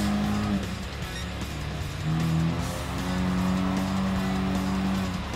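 Cars race in Gran Turismo Sport during a Sunday Cup career-mode event, producing close, sustained engine drones that rise and fall with gear changes, along with brief tire squeal.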